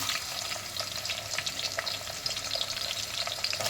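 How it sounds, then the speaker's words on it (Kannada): Finely chopped onions fry in a red masala for mutton biryani, sizzling steadily and closely with crackling pops and the occasional stir, with no talking. "ಇವಾಗ ಈರುಳ್ಳಿ ಹಾಕ್ಕೊತಾ ಇದ್ದೀನಿ"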